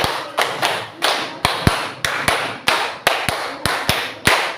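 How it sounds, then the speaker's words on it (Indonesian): A classroom of students claps together in a rhythmic pattern during a lesson, with sharp, evenly spaced group claps in clusters that come through loud and close with no talking. "Tepuk 5 3 kali."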